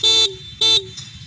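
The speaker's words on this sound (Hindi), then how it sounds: "और अभी हम लोग हॉर्न की आवाज़ सुनेंगे" Two short, loud horn beeps from a 2019 Hero Passion XPro motorcycle, each lasting about a quarter second and separated by a brief pause, close to the listener with no talk over them.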